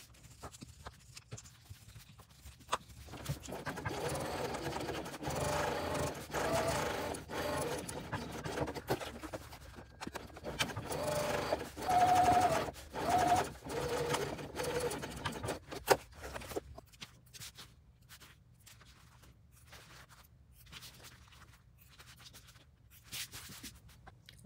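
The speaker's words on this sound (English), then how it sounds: "we will top stitch down both of these sides on these side lining pieces" A sewing machine top stitches the side lining pieces of a Coupeville tote bag, a steady mechanical run of needle strokes lasting several seconds before stopping, with faint handling noise afterward and no talking.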